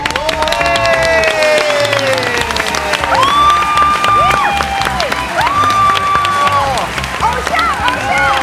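An audience applauding and cheering to welcome a candy magician onto a TV stage, clapping and crowd noise running under loud bright musical tones, with a voice speaking over the mix.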